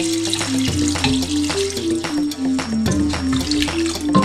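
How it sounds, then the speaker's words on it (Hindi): Hot water pours into a cooking pot of spiced yakhni soup with a continuous splashing, sizzling rush, loud and close, while a steady tonal sound runs underneath. "अब इसमें मैं ये गरम पानी इसमें डाल रही हूँ,"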